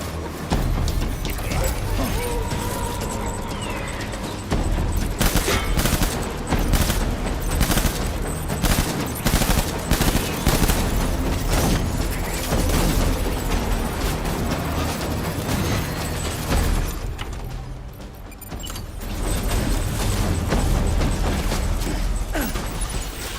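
Rapid bursts of automatic gunfire and explosions from the video game Death Stranding Director's Cut, loud and dense, with a brief lull near the end before firing resumes.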